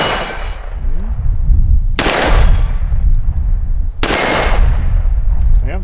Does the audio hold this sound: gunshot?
yes